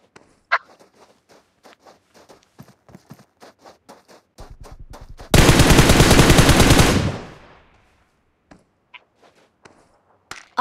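Gunfire from a shooter video game. Scattered single pops and light clicks lead into a loud, dense burst of rapid automatic fire that lasts about two seconds, then fades back to sparse shots.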